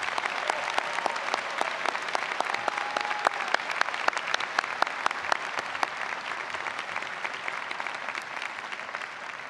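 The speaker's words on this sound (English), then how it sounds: "please join me in a round of applause for our graduates" Sustained applause from a large audience for graduates at a college liberal arts and sciences convocation ceremony, steady dense clapping filling the hall for the whole stretch with no voices over it.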